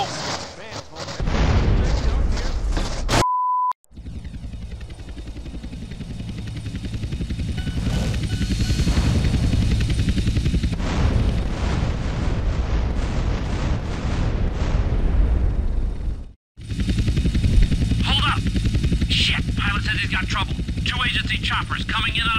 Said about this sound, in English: Choppers coming in on an intercept.